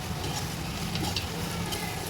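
Chettinad biryani masala being stirred and sautéed in a pan, giving a dense, even sizzle with soft scraping, close and continuous with no talking.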